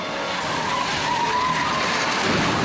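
A Mustang slams into an empty van at nearly 70 mph on a highway, a loud sustained scraping rush with a tire-squeal-like skid holding steady for a few seconds, with no one talking.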